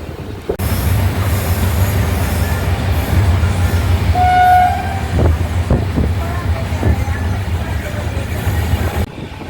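A passenger train rumbles along steadily with a low continuous roar, a brief horn-like tone midway and clanking wheel noises, heard from on board after leaving Nemom.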